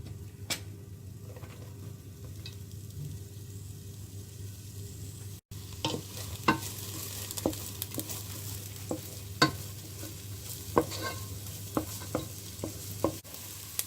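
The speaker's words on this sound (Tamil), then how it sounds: "அதையும் சேர்த்து கொஞ்சம் பொன்னிறமாக ஒரு லைட் கோல்டன் கலராக வர்ற மாதிரி நாங்கள் இதை கொஞ்சம் வதக்குவோம்" Onion, garlic and green chili sautéing in a pan for sambar, a soft steady sizzle punctuated by irregular sharp spatula scrapes and taps, close by, growing busier after a brief dropout, no talking.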